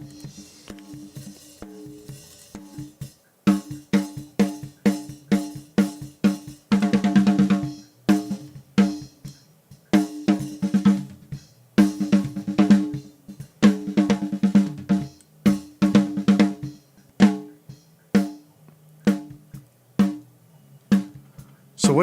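Choppy gated bursts of a drum loop, with the audio cutting in and out abruptly in rapid, irregular stutters, produced by a polarity-flipped dry signal set against a compressor.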